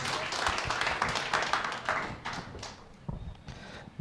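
A congregation at a watch night church service claps in uneven bursts, fairly close and moderately loud, with the clapping thinning and fading toward the end and a little background voice.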